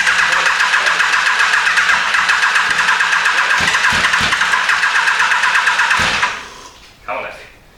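A Yamaha FJ1200 motorcycle with a flat battery cranks slowly and steadily for several seconds, loud and close. The whine stutters and then cuts out without the engine catching.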